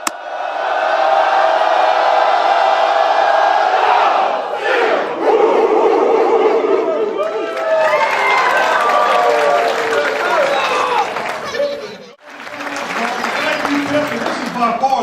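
A large crowd at a UGA Day Bulldog Club gathering in Tifton, South Georgia, roars with sustained cheering, whooping and applause, loud and continuous for about fifteen seconds with a brief dip near the end.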